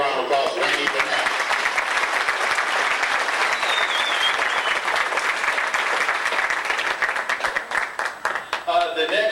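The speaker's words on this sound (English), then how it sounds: "Ladies and gentlemen, how about a big round of applause for Randy Burnett?" Sustained applause from a banquet audience honoring Randy Burnett at a 1992 Banquet of Champions, dense and loud clapping from a large room that thins out toward the end, with a voice faintly beneath.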